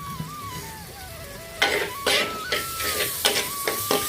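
Tomato and onion sauté in a pan, a soft sizzle broken by several sharp bursts of stirring and scraping, with a faint steady whine running underneath.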